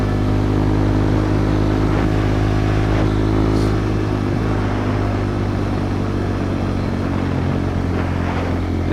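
A Kawasaki Z125 Pro motorcycle with gold rims rides past, its small engine giving a steady loud drone with a faint rise in revs, no voices over it.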